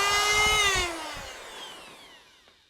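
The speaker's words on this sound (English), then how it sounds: "So I'm going to take our sanding disc and we're going to clean up that hole a little bit." A sanding disc on a power tool cleans up a drilled hole in a Native Watercraft Hammer 12 kayak, giving a brief high whir that winds down and fades, with no talking.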